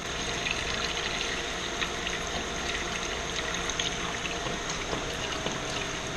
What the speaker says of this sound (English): Find out I have a hole in the bottom of this thing, just pours out everywhere.